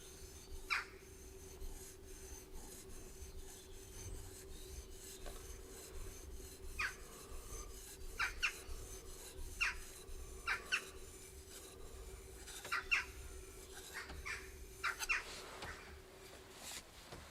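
A Schrade Frontier SCHF 42D knife bevel is sharpened with a run of rasping strokes, some sharper scrapes standing out over a soft continuous rub, close and fairly quiet, without speech.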